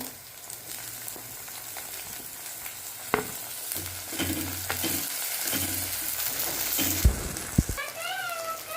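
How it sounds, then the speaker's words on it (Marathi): Onion and tomato sizzle and fry in a pan for pasta, a steady hiss with occasional stirring scrapes and clicks of a utensil against the pan, fairly close throughout. "कांदा चांगला परतून घेऊ आपण कांदा चांगला पण परतून घेऊ त्यानंतर आपण टमाटर टाकणार"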